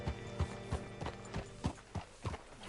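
Horse hooves clip-clop at a steady walking pace in the video game Red Dead Redemption 2, with about nine evenly spaced, soft thuds alone.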